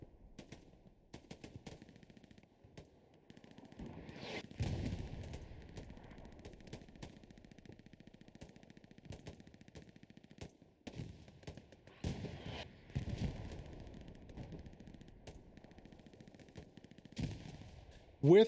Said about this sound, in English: Devastating artillery on the backside here.